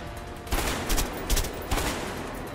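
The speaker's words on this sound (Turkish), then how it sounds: "Ayağına sıkıyorum." Gunshots in the video game A Way Out, four separate loud reports spaced unevenly over a steady background, each with a short ringing tail.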